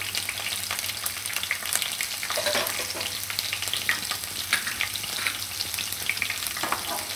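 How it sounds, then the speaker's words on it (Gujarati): Mild and hot green chillies fry in oil while being stirred, a loud, dense and continuous close sizzle with faint scraping through it and a low steady hum underneath, with no talking. "થોડીક વાર આપણે તેલમાં ફેરવી લેવાના."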